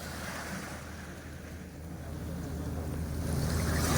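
Morning sea surf rolls in as a steady, broad roar with some wind rumble, growing gradually louder toward the end, with no voices.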